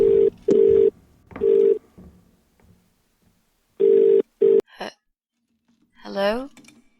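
A telephone in The Cat Lady video game rings in two bursts of repeated electronic trills, close and loud with quiet gaps between them, followed by a short sweeping electronic tone.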